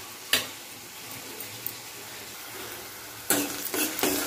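Boiled potatoes mashed and stirred in a pan over low heat for Mumbai-style vada pav filling, a soft steady scraping with a faint sizzle, punctuated by a few sharp utensil knocks against the pan.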